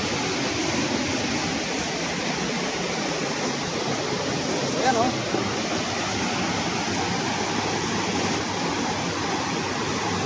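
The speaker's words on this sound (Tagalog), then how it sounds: "Ang lakas po yung agos niya" Strong river current rushing near a boat crossing in Montalban, Rizal, a loud unbroken roar of water filling the scene, with a brief spoken exclamation over it.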